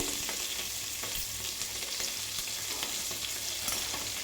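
Green chillies and curry leaves crackle and sizzle in hot oil tempering for Kerala-style Pongal, a steady close frying hiss with small popping bursts throughout, no voices.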